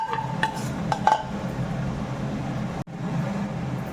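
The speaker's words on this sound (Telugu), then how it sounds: "ఒక ఐదు నిమిషాలు మగ్గిన తర్వాత ఈ మటన్ని వేసేసుకోవాలి" Mutton pieces going into a pressure cooker pot for biryani, with a few metallic clinks of a utensil against the pot over a steady low rumble of cooking.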